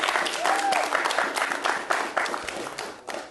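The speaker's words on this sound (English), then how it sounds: "round of applause for Kate" Applause for Kate's birthday: a small group claps close by in a brisk burst of a few seconds, with some chatter mixed in.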